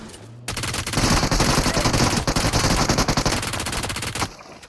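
Automatic gunfire in a battle royale video game, a dense, loud, rapid burst lasting several seconds that stops abruptly, with no talking over it.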